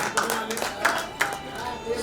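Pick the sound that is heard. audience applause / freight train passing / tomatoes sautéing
audience applause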